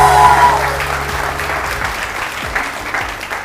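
A studio audience on a Pakistani TV morning show applauds to welcome a guest, with loud clapping that starts strong and gradually thins out, while a faint voice carries underneath.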